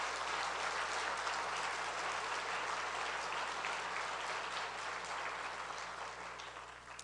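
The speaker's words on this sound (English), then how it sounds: "can we have a round of applause" An audience at a hall of distinction induction ceremony applauds, with a dense, steady wash of clapping that fades slightly at the end.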